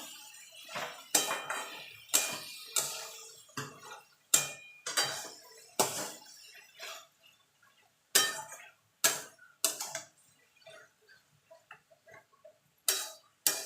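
A utensil stirs fried shrimp into water lilies (shapla) cooking in a pan, giving a run of sharp clinks and scrapes against the metal in irregular bursts, close and fairly loud with no one talking.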